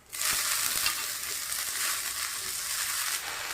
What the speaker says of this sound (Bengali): আমি এখন শাকটা দিয়ে দিচ্ছি।